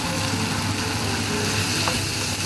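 Tamarind sizzles steadily in a hot pan with tomatoes for a tomato chutney, a dense, continuous frying hiss close up with faint stirring, no talking.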